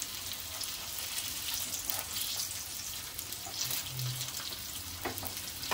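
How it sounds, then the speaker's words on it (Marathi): Hara bhara kebabs shallow-fry in a little oil with a soft, steady sizzle and occasional spits as they are turned, while a voice briefly speaks over it. "तेलावरती फक्त थोडे शॅलो फ्राय करायचे आहेत।"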